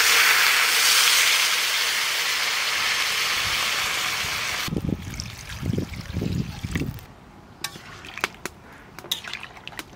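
Water hits a hot pan of goose-egg and potato curry with tomatoes, first a loud steady sizzling hiss, then bubbling, spluttering bursts that fade into softer crackles and occasional pops.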